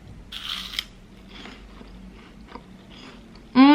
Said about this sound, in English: They're fluffy but crunchy.